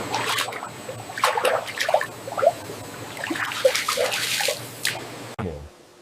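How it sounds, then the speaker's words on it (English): Controlled-pressure water jets rinsing bananas in a cake factory, a busy splashing and spattering wash that cuts off abruptly near the end. "The water pressure is carefully controlled, strong enough to clean, gentle enough to protect the fruit from bruising."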